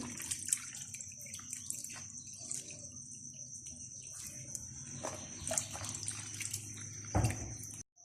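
Bitter gourd (karela) being washed and squeezed in water, with soft splashes, drips and wet handling noises against a faint steady high whine, quiet and close with no talking.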